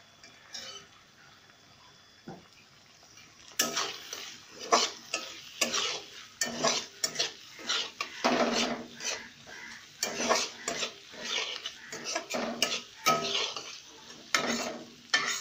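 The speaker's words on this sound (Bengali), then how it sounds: "এবং কষতে থাকবো, পেঁয়াজটা যতক্ষণ না ব্রাউনিশ হয়ে যায়" Cumin and chopped onion fry in a pan, a steady sizzle with repeated scraping and clinking strokes of a spatula stirring, close and fairly loud, no talk.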